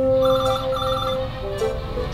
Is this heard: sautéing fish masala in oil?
no